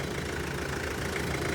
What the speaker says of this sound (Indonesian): Ini mesin lagi nyala ya